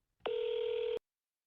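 A telephone call is dialed: a single steady electronic tone sounds for under a second, clean and clear, and then cuts off into silence.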